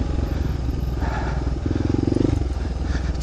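Motorcycle ridden over gnarly, rough forest terrain, with a loud, close engine drone and rattling clatter from the bike bouncing over the ground, continuous throughout.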